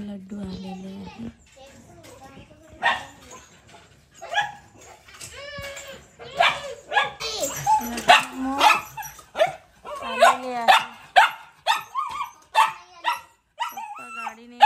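A pet dog barks and yips in repeated bursts of excitement, close and fairly loud, mixed in with children's voices and other people talking nearby.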